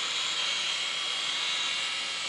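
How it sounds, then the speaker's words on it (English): A micro RC helicopter hovering indoors gives a steady, close, high-pitched rotor whine and buzz that holds evenly throughout, with no talking. "This is a Samaria heli. Very good, stable helicopter. As you can see, it hovers just perfectly."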